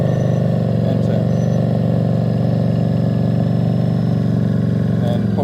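A motorcycle engine holds a steady, loud, mid-pitched drone at raised revs through a road turn, with a rider's voice faintly under the continuous sound.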